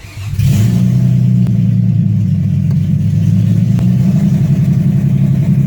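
Loud, rough idle of a Nissan Altima engine just fired up after an oil leak, with low oil pressure, a steady throaty drone that starts abruptly and holds without pause.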